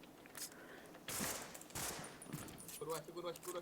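Gunfire from a small gun in the MineZ Minecraft mod video game, with quick bursts of shots in the middle and a faint voice talking over the game sounds, fairly quiet overall.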